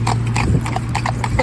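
A fell pony's hooves clip-clop in a quick, close rhythm on a hard surface, with a steady low hum and a faint voice in the background.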